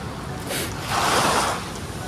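Ocean waves wash and hiss in soft broad swells on a Zambales beach in extreme wind and rain, with a gentle surge in the middle and some wind rumble underneath.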